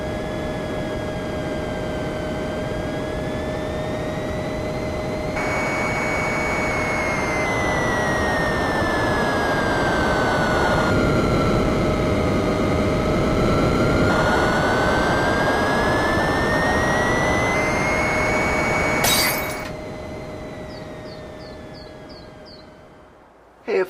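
A video game airplane comes in to land with a loud, steady jet engine roar and a whine that slowly bends in pitch, then a short burst of noise before the engine sound drops away.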